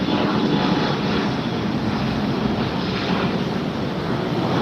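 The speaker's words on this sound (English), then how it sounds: "Got an Alaska Airlines flight departing." An Alaska Airlines jet departs Los Angeles International Airport with a steady, broad engine roar heard from some distance, holding constant throughout without talk.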